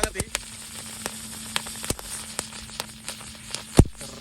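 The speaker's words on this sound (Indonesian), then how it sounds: "Selanjutnya kita nyalakan gangsing jumbo pretek." A jumbo spinning firework crackles and sputters at night, with a steady fizzing burn broken by sharp pops and a louder bang near the end, outdoors during Ramadan fireworks.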